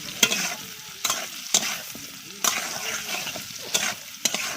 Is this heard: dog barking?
no